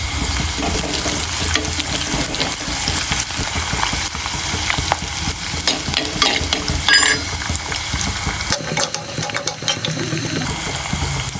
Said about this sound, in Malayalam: നമുക്ക് നമ്മുടെ ഇഞ്ചി വെളുത്തുള്ളി ഇട്ട് കൊടുക്കാവേ. നന്നായിട്ടൊന്ന് വഴറ്റി വെക്കാം.